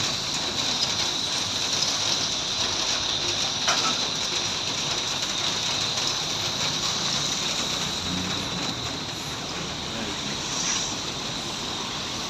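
Steady rain hisses continuously, with a broad wash of noise and occasional faint knocks in the background, no clear voices.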